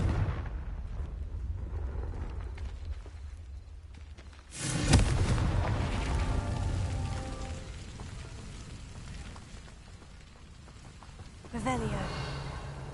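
A fiery blasting-curse spell bursts with a sharp, loud explosive crack in the wizarding game Hogwarts Legacy, followed by a crackling, rushing tail, with a second weaker blast near the end over a hissing, rain-like background.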